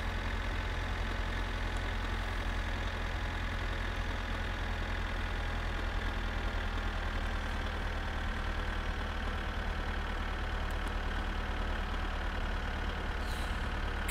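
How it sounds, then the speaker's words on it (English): Tractor engine in the video game My Summer Car runs at a steady low idle-like drone, continuous and fairly loud throughout with no talk over it. "Come on, tractor."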